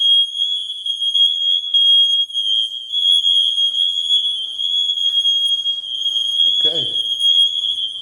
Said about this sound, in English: There's this fire alarm in my room here.